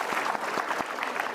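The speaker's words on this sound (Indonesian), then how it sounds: "beri tepuk tangan pada sahabat-sahabat super kita yang sudah curhat" Studio audience at a motivational talk show clapping, a dense burst of applause that keeps going at full strength through the brief moment.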